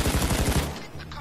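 Rapid automatic gunfire in the video game PayDay 2, a loud fast burst of rattling shots that stops partway through the brief moment, with game noise continuing afterward.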